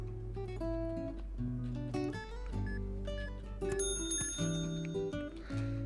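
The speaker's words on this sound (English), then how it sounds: "Y'all, chill with the freaking ringing my bell." A shop bell ringing over and over in the video game Liquor Store Sim, a busy run of bright, chiming tones stacked and repeating in quick succession, clear and prominent though fairly soft overall, with no talking.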